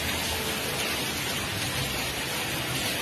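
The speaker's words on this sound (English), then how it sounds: "A river of hail flows down the street." Hail streams in a river down a street in Toluca, Mexico, making a dense, steady rushing and rattling wash of noise with no letup and no voices.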